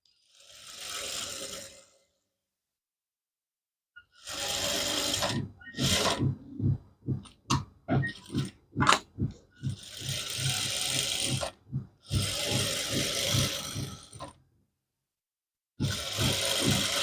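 A sewing machine stitches a ready-made dress during an alteration. It runs in bursts, with long continuous whirring runs broken by a quick series of short, rhythmic stitch pulses, then stops and restarts close by, without talking.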